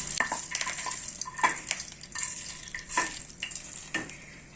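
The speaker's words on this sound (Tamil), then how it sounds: "இப்போ நம்ம இந்த தாளிப்பை இந்த அவியலுக்குள்ள நம்ம மிக்ஸ் பண்ணிக்கலாம்." A spoon stirs a mustard seed and curry leaf tempering into aviyal in a pan, making close, gentle scraping and clinking strokes in an irregular rhythm over a soft sizzle, with no talking.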